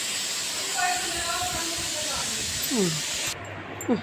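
A steam iron hisses steadily while clothes and dupattas are pressed at home, a constant broadband hiss with faint voices in the background that stops abruptly near the end.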